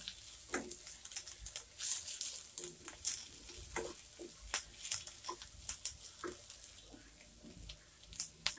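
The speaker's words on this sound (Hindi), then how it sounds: "अभी इसमें कैप्सिकम ऐड कर देंगे और हरी मिर्च ऐड कर देंगे। इसको भी 1 मिनट तक हम कुक कर लेंगे।" Capsicum and green chillies stir-fried for veg chowmein: bursts of sizzling alternate with scraping stirs and clinks of a spatula against the pan, close and uneven in rhythm, fairly quiet overall.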